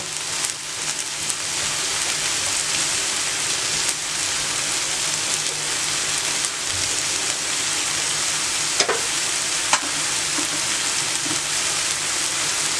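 Omelette batter sizzles on a hot tawa griddle, a steady close crackling hiss that runs throughout, broken by a few small pops and light scraping.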